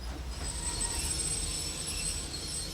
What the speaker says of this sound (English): In an emergency, you released the air pressure and the piston slammed shut,